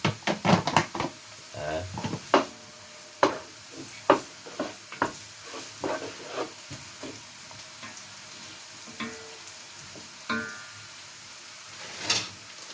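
Onion, garlic and ginger sautéing in a pan with lemongrass nearby, a string of stirring scrapes and sharp utensil clicks over a steady low sizzle, close and fairly loud at first, then thinning out to sparse taps.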